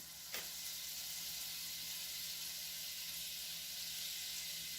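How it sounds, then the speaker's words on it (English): Butter warming in a pan with leftover oil from frying red chile chicken, giving a steady, faint sizzle and hiss throughout with one brief tap near the start. "So I'm warming this back up. I'm going to add some butter."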